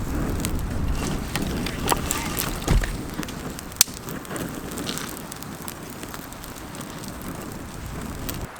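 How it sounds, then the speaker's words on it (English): Outdoor campfire burning in the wind on a Thanksgiving family canoe trip, with a steady crackling hiss and buffeting wind noise over the microphone, a few sharper pops, and voices faintly in the background. "So we've got the fire started."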